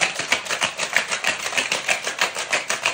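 A cocktail shaker holding hibiscus and rose petal syrup is shaken hard in a fast, steady rhythm, the ice rattling close and loud for about three seconds with no voices.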